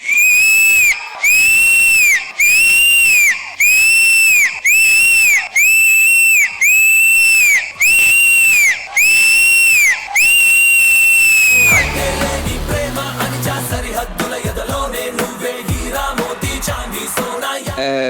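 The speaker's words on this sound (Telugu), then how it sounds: "అరుపులు, క్లాప్స్, విజిల్స్" Loud, repeated shrill whistles blast in a regular series, then give way to a chaotic din of a TV dance-show studio audience shouting, clapping and whistling.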